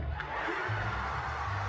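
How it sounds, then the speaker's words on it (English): Concert crowd at a Sonic Symphony show, cheering and singing along as a faint, distant wash of voices heard through a recording. "You can hear the crowd knows the whole thing"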